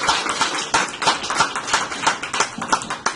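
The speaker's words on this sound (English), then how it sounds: "Let's give the speakers a big round of applause." A round of applause for the speakers at an evening talk event, with distinct individual claps that sound like a smaller crowd, fairly close and uneven in rhythm.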